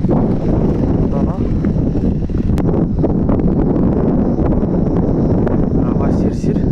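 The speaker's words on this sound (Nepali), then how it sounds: "हावा शिरशिर" Wind gusts across a hilltop road at Hile Danda in Nepal, a loud, continuous low roar buffeting the microphone for the whole stretch.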